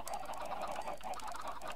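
Chickens cluck and murmur continuously in a dense flock, a busy overlapping chatter at moderate volume.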